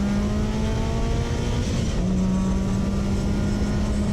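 A Subaru STI race car engine fitted with a JDM twin-scroll header drones loudly and steadily nearby, a continuous rough exhaust note with no talking.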